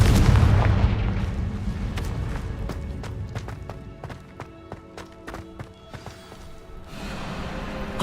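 Confringo blasting spell from the Hogwarts Legacy video game, opening with a deep, heavy boom that fades into a string of sharp cracks and impacts over rumbling game sound.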